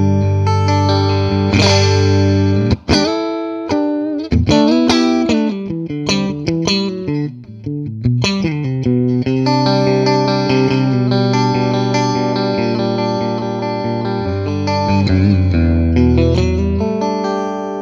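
Clean guitar tone from a Music Man Cutlass played through an Orange Rocker 32 combo amp on the in-between pickup position: a continuous, close run of chords and single notes with bright, ringing attacks and no voices.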